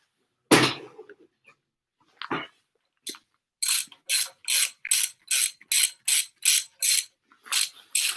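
A ratchet cranks to tension a belt, a series of crisp, close clicking pulls in a fairly steady rhythm after a few isolated clacks and knocks.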